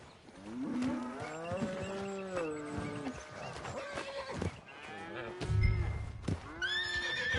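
Horse in Red Dead Redemption 2 whinnying several times in wavering, rising and falling calls, close and fairly loud, with hoof clops and game ambience around it.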